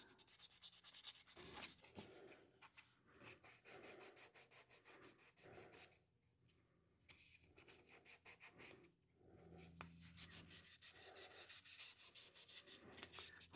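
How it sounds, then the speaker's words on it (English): Hand sanding of a tarnished metal star, with quiet, close, rhythmic rasping strokes that stop briefly midway before a steady run of back-and-forth scrubbing resumes. "And I will just continue to sand."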